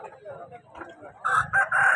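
A rooster crows loudly at a busy fighting-cock market in Punganur, Chittoor district, with a short crow rising out of murmuring crowd noise in the final second.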